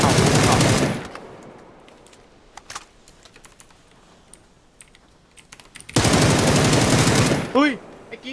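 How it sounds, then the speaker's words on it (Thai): Bursts of automatic gunfire in the battle royale game PUBG, two loud dense volleys at the start and again later, separated by quieter scattered clicks, with a voice briefly talking. "ตามเสียงปืนเลยเพื่อน"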